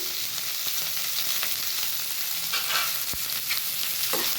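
Onion and drumstick flowers sautéing in a pan, a dense steady sizzle close up with occasional soft stirring scrapes, no voices.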